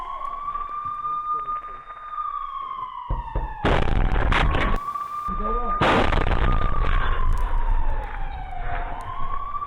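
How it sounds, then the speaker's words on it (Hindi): Grenade launcher fire in combat from inside a building: loud blasts and bursts of gunfire crash over a long, sliding air-raid siren wail, close and reverberant. "इमारत के अंदर से ग्रेनेड लॉन्चर अटैक का जवाब दिया जा रहा है।"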